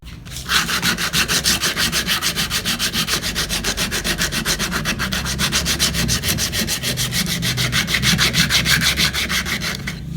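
Coarse 60-grit sandpaper rubs rapidly back and forth over carved wood, a steady, loud, close-up scratching with a fast even rhythm that runs for the whole stretch, with no talking.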